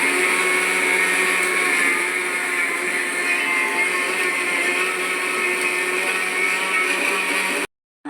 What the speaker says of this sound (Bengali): এই মিক্সিতে কুড়িয়ে এবারে কুটবো।